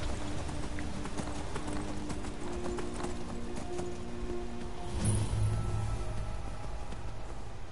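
Steady clip-clop of a feral horse's hooves trotting close by in a video game, continuous and rhythmic, with a brief rise in loudness near the end.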